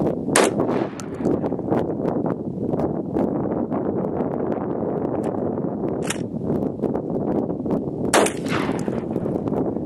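Gunshots are fired at pumpkins: three or four loud, sharp blasts stand out over a continuous, dense rushing roar like strong wind across the microphone.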